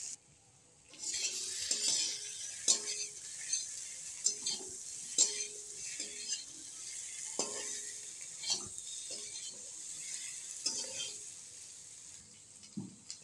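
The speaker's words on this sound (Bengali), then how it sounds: "অ্যাড করে কিছু সময় ধরে মশলার সাথে আলুটা কষিয়ে নিলাম।" Potatoes with salt, turmeric and spices being stir-fried in a pan for a silver carp curry, a steady soft sizzle under repeated scraping and stirring clinks, close and fairly quiet.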